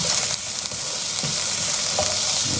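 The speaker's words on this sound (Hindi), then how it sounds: "इसको भी 1 मिनट के लिए भून लो इसके साथ।" Garlic paste sizzling and being stirred with onions in a hot pan, a steady dense frying hiss with soft scraping strokes, close and continuous with no talking.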